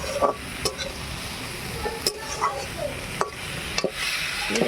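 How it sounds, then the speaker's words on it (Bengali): Shrimp paste frying in a pan with a soft, steady sizzle, broken by several sharp scrapes and knocks as a spatula stirs it against the metal. "এটা একটু ভাজা ভাজা হবে গলে যাবে"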